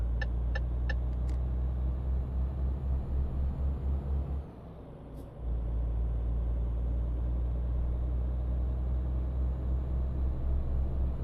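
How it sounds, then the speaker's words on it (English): A heavily loaded truck engine drones and labours in Euro Truck Simulator, a loud, steady low rumble that dips briefly during a gear change before pulling on again. "Oh god, this weight is killing my truck."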